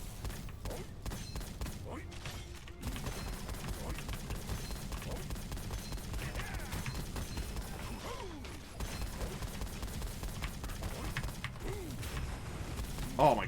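Rapid bursts of gunfire and blasts in Gunfire Reborn crowd together continuously, a dense, busy mix with thuds and mechanical clatter throughout.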